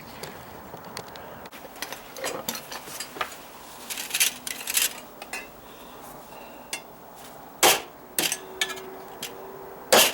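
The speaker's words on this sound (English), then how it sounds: "I'm just going to take my scratch awl and pop some holes in it to make it easier to put the screws in" Scratch awl pressed into deck stair wood to start screw holes, a few scattered sharp taps and scrapes over quiet room noise, close and intermittent, with louder clacks near the end.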